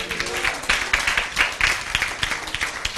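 A church congregation claps along during a Tamil sermon, irregular bursts of hand claps mixed with crowd noise and faint voices throughout.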